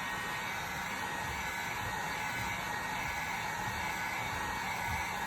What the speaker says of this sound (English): no more than 1 or 2 rotations with the heat gun